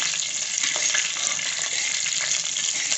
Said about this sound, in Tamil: நல்லா வறுத்துக்கணும்.